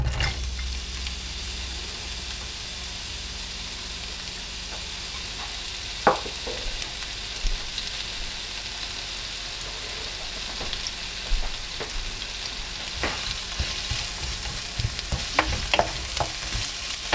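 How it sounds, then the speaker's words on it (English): Spinach and onions cooking in a little olive oil in a pan, a low continuous sizzle with occasional stirring clicks and scrapes growing busier toward the end, no talking. "To cook the spinach, I am going to add a little bit of olive oil, just a tiny bit."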